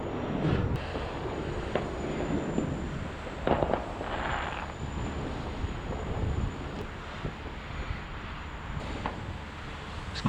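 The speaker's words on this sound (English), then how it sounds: "Quite a few fireworks going off" Fireworks burst far off on Bonfire Night, scattered soft pops and rumbles spread over a breezy outdoor background with wind buffeting the microphone and no speech.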